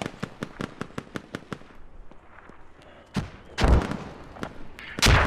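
Mortar explosions sound in a military squad video game, first a rapid string of sharp, evenly spaced cracks, then a quieter stretch followed by several heavier, booming blasts close by.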